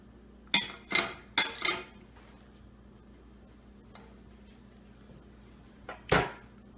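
A few sharp metallic clinks and clatters of a frying pan on a stovetop at medium heat as butter is added, spaced irregularly, close and fairly quiet against a faint background hum.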